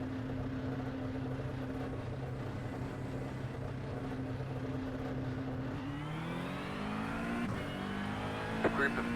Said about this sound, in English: A group of faster cars approaching.